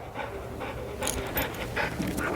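A shed-hunting dog pants steadily in quick, breathy bursts close by, over a noisy outdoor background, with no talk during it.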